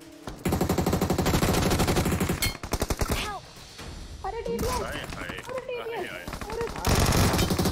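Rapid automatic gunfire from the battle royale mobile game BGMI, loud sustained bursts with a short gap, then scattered shots under game effects and chirpy sounds, ending in another heavy burst.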